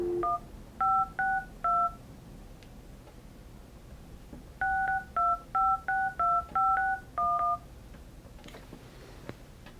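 Touch tones beep from a Grandstream GXV3275 desk phone as a number is dialed, first a short run of four clear beeps, then a pause, then a longer burst of about eight tones.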